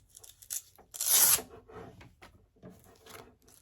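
Coarse 100 grit sandpaper scrubs through wood stain in a workshop, giving a few short rasping strokes with one louder, longer scrape in the middle, close and alone.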